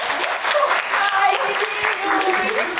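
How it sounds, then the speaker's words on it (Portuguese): Audience applause at a balloon-popping dating game show, a steady broad wash of clapping lasting a few seconds with voices mixed in. "Palmas"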